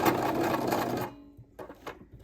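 Sewing machine stitching fabric for a lay-flat cookbook bookmark, a steady close whir that cuts off after about a second and is followed by a few faint mechanical clicks.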